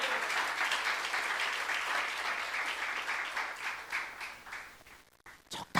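A church congregation at a youth service breaks into sustained, dense applause that fills the room for several seconds, then thins out and stops in a few scattered claps.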